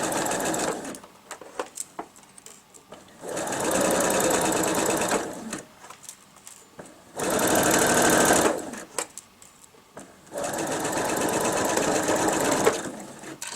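Sewing machine stitching a pointy seam, three sustained runs of close, steady mechanical whirring broken by quieter gaps where the presser foot is lifted and the fabric turned, with faint handling noises between runs.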